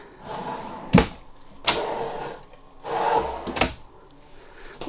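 Drawers in an RV kitchen slide open and shut, four distinct wooden knocks and thuds with rolling slide noise between them, close by.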